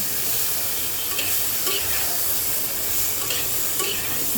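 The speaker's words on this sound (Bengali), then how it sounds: "মশলাটাকে আমি দুই এক মিনিট সুন্দর করে এভাবে ভাজা ভাজা করব" Steady frying sizzle of ground spices in a pan with occasional scraping strokes of a spoon stirring, continuous and close, no voices.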